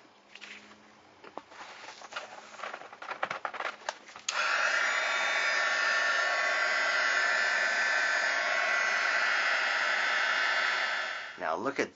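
A heat gun heat-sets Ice Enamels powder, starting after a few seconds of light handling clicks and rustling, then blowing a loud, steady roaring hiss close by for about seven seconds before switching off.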